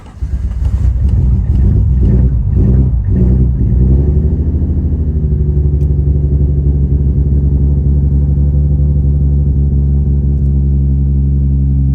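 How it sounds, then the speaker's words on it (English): A Toyota Supra with a 2JZ engine cranks and catches, revving unevenly in a few loud bursts before settling into a steady, deep rumbling idle, close up with no talking. "I'm gonna try to start this car up and show you guys the noises I'm hearing"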